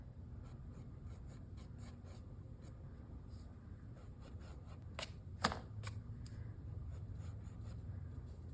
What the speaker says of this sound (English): I'm gonna take the thick pencil and darken a little bit.